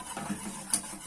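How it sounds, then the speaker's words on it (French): Choux pastry dough being stirred in a pan over medium heat, a brief close scrape and soft slap of the mixture with a small clink of the utensil. "Et je mélange."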